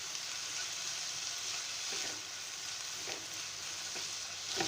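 Chicken pieces seasoned with salt and black pepper fry in a pan for white sauce pasta, giving a steady, close, hissing sizzle with faint crackles throughout and no talking.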